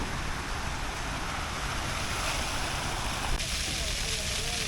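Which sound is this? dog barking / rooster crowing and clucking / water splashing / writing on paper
water splashing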